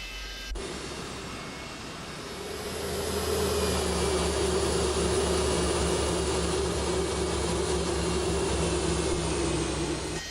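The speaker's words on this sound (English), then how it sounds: "Listen to those old JT8s." Boeing 727 with JT8D jet engines running in Microsoft Flight Simulator, a steady loud roar with a whining tone that swells after a couple of seconds and then holds evenly.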